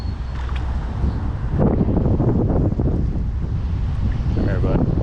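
Steady wind roars and buffets the microphone on a river during fly fishing, a constant low rumble filling the whole stretch with some gusting surges.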